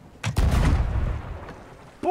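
A ship's cannon fires in Sea of Thieves: a faint pop comes first, then a single loud booming shot that rumbles and fades over about a second, followed by a short tonal game sound.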